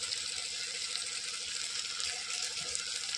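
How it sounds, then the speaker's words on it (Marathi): Hot water is poured into a pot of bombil (Bombay duck) rice, giving a quiet, steady rushing splash that runs unbroken for a few seconds. "आता टाकत आहे मी याच्यामध्ये पाणी"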